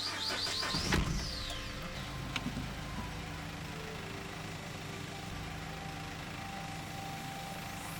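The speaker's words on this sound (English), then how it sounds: "Start the engine." Nissan Note (E11) engine cranking and catching near the start, followed by a steady idle with faint chirps and a light click over it, no talk.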